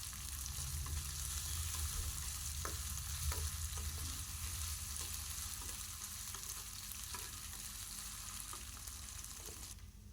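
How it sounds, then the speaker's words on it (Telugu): Onions fry in hot oil for a vegetable biryani, giving a steady close sizzle with occasional sharp crackles and stirring clicks throughout, with no voices. "సో ఇవి బాగా ఫ్రై చేసుకొని పెట్టుకుందాం"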